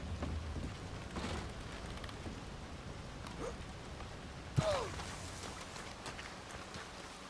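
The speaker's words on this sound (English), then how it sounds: "Wish that rain wasn't there. It's really loud." Rain falls steadily in the game Red Dead Redemption 2, a continuous hiss with rumbling low texture, moderately loud throughout, broken once by a brief sharp knock partway through, with no speech.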